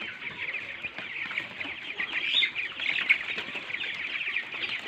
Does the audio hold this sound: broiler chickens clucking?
yes